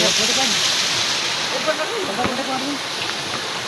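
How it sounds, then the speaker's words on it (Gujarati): Strong, steady rush of flowing water at Ranitok hill near Ranol village, Dantiwada, Gujarat, fills the clip, loud and continuous, with people talking faintly underneath. "પાણી પણ ચાલુ છે જોરદાર"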